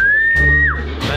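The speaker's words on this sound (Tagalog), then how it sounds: "Ganun pala yung pito para bumaba sila." A short, loud, high whistle is held steady and then slides downward to call pigeons down for feeding at a loft, followed by a burst of fluttering noise.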